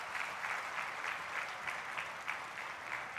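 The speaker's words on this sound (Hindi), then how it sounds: "तालियां बजाकर सेना के जवानों का अभिनंदन किया जाना चाहिए" A hospital silver jubilee ceremony audience claps steadily, a dense, even patter of many hands heard from a moderate distance with no voices over it.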